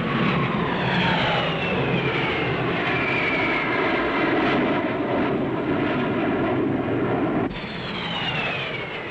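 A Lockheed F-104 jet fighter, a NATO aircraft of 1961, roars overhead in a loud continuous rush with sweeping whines, cutting briefly before a second pass rises.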